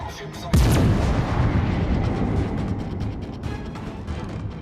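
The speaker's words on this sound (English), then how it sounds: "trying to get the damn guns in this guy. And they sound so cool when you shoot with this." Heavy warship guns boom in World of Warships: one loud, sharp broadside blast near the start, followed by a long rumbling roar and steady low battle noise that lingers throughout.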